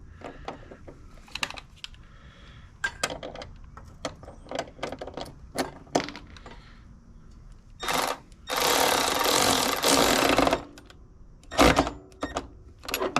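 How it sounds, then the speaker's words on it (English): A cordless impact wrench snugs the nuts on the body bolts of a Chevelle restomod during a body drop. Scattered clicks and clanks lead into a loud, steady burst of about two seconds, and a shorter burst follows near the end. Nobody speaks. "I'll just snug them with that wrench, that cordless wrench"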